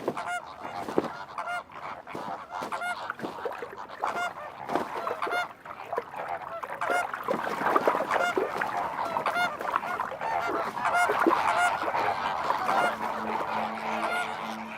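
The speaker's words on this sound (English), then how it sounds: "Flamingos brood more successfully when they can raise their offspring all at the same time." A flock of flamingos keeps up a dense chorus of overlapping, goose-like honking calls that never stops for about fifteen seconds.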